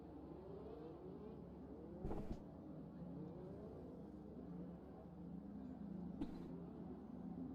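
F1 race cars from a video game rolling up to the starting grid at the Mexico round, engines droning and revving steadily at moderate distance with a couple of brief bursts, no voices.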